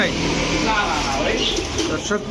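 Pigeons coo in a busy pigeon shop selling Teddy, Pankhi and Saharanpuri breeds, a steady murmur of birds under continuous nearby talk.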